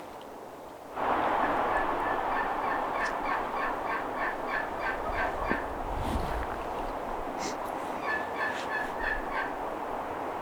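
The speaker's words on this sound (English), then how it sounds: "These turkeys can be deceiving out here. Sometimes when they're yelping or gobbling." Wild turkeys gobbling and yelping on a hillside during a spring hunt, repeated bursts of calls sounding fairly distant over steady broad background noise, with a low rumble midway.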